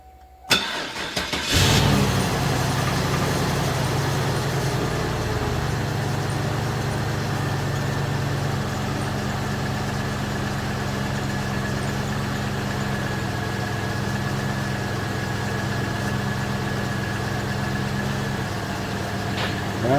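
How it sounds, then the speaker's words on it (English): A 1999 Cadillac Eldorado engine starts after a brief crank and then settles into a steady idle with the heater blower fan running, a continuous mid-pitched hum heard close up with no talk. "it actually has to be running for the blower fan to run"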